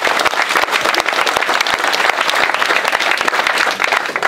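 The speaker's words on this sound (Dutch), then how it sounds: "Dus ik denk een groot applaus voor alle begeleiding." Dense, steady applause from a group at a school open day at TC Hardenberg, many hands clapping at once, loud and close, with no break over the few seconds.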